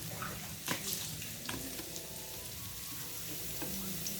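Garlic and onion sizzle steadily in a hot pan for squid adobo, a close, continuous frying crackle with occasional stirring clicks and no talking.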